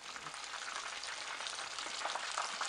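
Fish bread rolls frying in hot oil give a steady, dense crackling sizzle that holds even throughout, with no voices.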